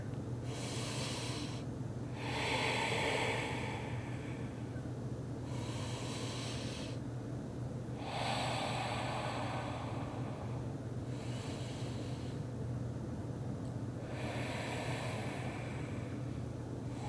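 Slow, deep yoga breathing during a gentle, grounding flow: long audible inhales and exhales repeat in an even rhythm, near and clear over a steady low hum.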